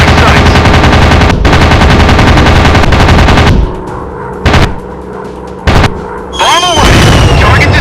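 In a WW2 warplane dogfight video game, loud sustained machine-gun fire rattles for several seconds, breaks off, then returns in short bursts with booming explosions, mixed with voice callouts.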